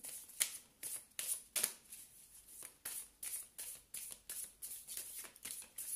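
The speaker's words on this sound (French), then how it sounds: "Donc je vais mélanger." Tarot cards being shuffled by hand, a steady run of quick crisp riffles and soft slaps repeating about twice a second, close and fairly quiet, with no talking.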